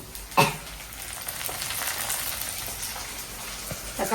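Onions sautéing in a pan for goat head curry give a steady soft frying sizzle with a few brief louder clinks and scrapes, close and fairly quiet, with no talking.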